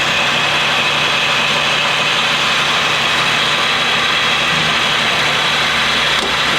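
A boring machine runs a very light cut on a 454 stroker engine block's cylinders, a loud, constant mechanical hum and whine that holds steady from start to finish with no talking.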